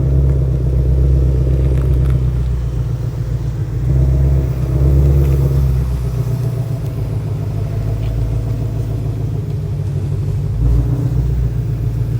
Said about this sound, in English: Probably have Derek just drive it over.